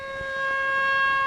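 An air raid siren wails at an Iranian airbase during a readiness drill, a loud steady tonal blare that swells slightly in volume and sounds alone with no talk.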